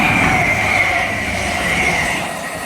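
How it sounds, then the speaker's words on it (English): Arriva Trains Wales Class 175 diesel unit bound for Carmarthen passing along the West Coast Main Line at Hartford, a loud close rush of wheels and engine with a sustained high whine and squeal, gradually easing. "the train now approaching is going to be a Arriva to Wales 175 bound for Carmarthen"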